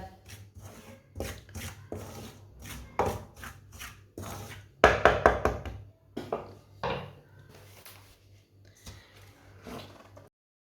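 A spoon stirs roasted flour in a very hot kadhai with the stove switched off. The scraping strokes come in an irregular, close rhythm with short pauses between them and no talking.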